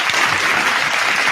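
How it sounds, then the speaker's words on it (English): An audience claps in a steady burst of applause that fills the short moment, close and evenly loud, with no voices standing out. "So let's give him a round of applause real"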